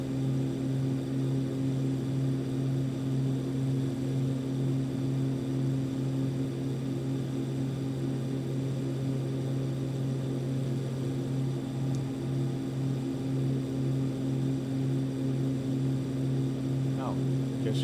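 Steady twin-engine drone of a simulated Cessna 414 flying over Iceland, a constant propeller hum running unbroken and fairly loud throughout.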